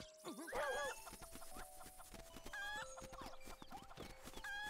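Chickens in the Zelda Link's Awakening video game cluck repeatedly in short bursts over steady game music, with a few brief squawks standing out loud and close.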